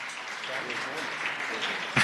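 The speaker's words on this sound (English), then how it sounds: "We're going to clap after I give the warm welcome to the Senate." Applause rises from the Senate gallery as a dense patter of many hands clapping, steady and moderately loud for about two seconds, with a short louder burst at the end.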